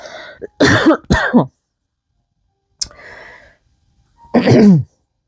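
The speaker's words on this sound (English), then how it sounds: "excuse me, I got a cough" Several harsh coughs in quick succession, then a pause, a short throat sound, and one more loud cough, close and otherwise quiet.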